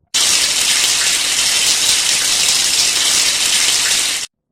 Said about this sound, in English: the water of the shower rained down on both of them